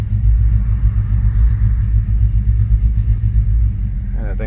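A 2005 Chevrolet Tahoe 4x4 with a 5.3L V8 idles with a steady, loud low rumble, given gas in reverse while suffering stalling and misfire trouble; the engine note holds fairly even with slight swells throughout.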